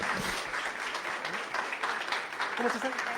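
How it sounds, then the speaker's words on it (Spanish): An audience at a project closing seminar applauds a guest, the Public Ministry's crime observatory manager, with a dense, even wash of clapping while voices murmur faintly underneath. "Un fuerte aplauso para ella, por favor."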